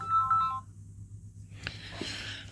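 A telephone ringing in a room, its electronic warbling tones repeating for a moment then stopping, followed by a few faint clicks and light handling sounds near the handset.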